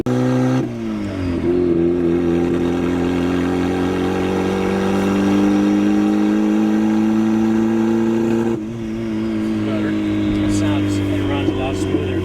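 A turbocharged Mazda Miata engine revs high and holds a strong, steady drone, with a brief drop in pitch partway through and the roar resuming.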